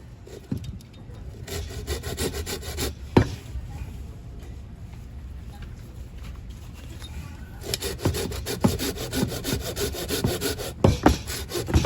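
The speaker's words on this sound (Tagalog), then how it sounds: "Bagong palit yung lagari natin." A hand saw rasps through wood in repeated back-and-forth strokes, close and steady, with occasional knocks and faint background noise.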